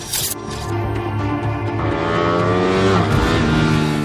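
A Ducati 959 Panigale with a 90-degree Super Quadro twin accelerates hard on the Buriram race circuit, its loud engine note climbing steadily through the gears, sustained and close.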